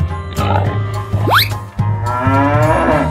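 A cow moos loudly and close by in long, drawn-out calls, one followed by a second, with a brief rising squeal between them and no talking.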